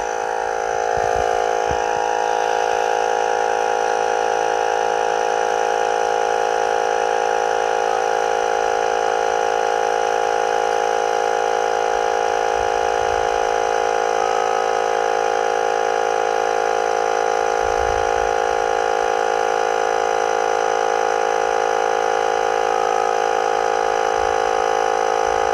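A Worx WX092 20V cordless tyre inflator runs without pause, its motor and compressor giving a loud, steady, close drone with a pulsing tone.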